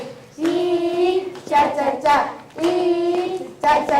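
Children chant a rhythmic clapping song led by a teacher, voices in call-and-response phrases with hand claps woven through, close and lively in a home-learning session.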